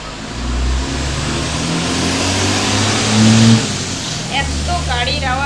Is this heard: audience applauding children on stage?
no